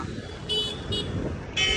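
City road traffic in Kolhapur, with engines rumbling close by and three short car-horn toots, the second briefer, punctuating the steady background.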